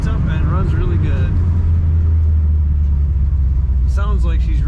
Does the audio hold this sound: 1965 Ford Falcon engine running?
yes